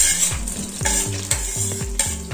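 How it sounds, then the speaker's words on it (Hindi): Four tablespoons of butter melt in a kadhai with a steady sizzle, joined by repeated scraping strokes of a utensil and faint metallic clinks. "हमने कढ़ाई में 4 टेबलस्पून बटर लिया है, उसे मेल्ट होने देना है।"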